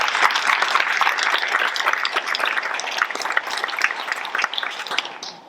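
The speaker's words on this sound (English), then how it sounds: "So let's give a round of applause" A school audience at a district event applauds, dense steady clapping that fills the room and tapers off at the end.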